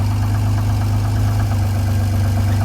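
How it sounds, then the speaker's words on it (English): A 1992 Acura NSX 5-speed idles on its original exhaust, a loud, steady, even engine burble with a deep rumbling pulse that holds constant throughout, close by and uninterrupted. "The exhaust sounds really nice"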